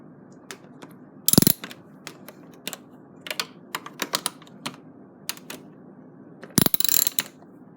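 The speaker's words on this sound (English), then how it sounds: "So we're going to unscrew those and get the old piece off." Bolts being unscrewed from the icemaker part of a Maytag/Whirlpool fridge, heard as scattered close mechanical clicks and ratcheting ticks, with two louder bursts of rapid ratchet rattling.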